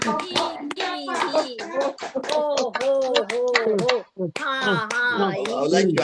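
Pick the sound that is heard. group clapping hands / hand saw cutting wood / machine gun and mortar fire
group clapping hands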